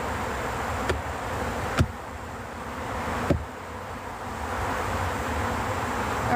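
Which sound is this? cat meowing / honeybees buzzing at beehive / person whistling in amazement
honeybees buzzing at beehive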